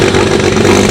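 A repaired engine in a pulling tractor, built with a big turbo and an ice intercooler, roars loudly and continuously up close at a pulling competition, a dense, saturated engine drone over one brief second.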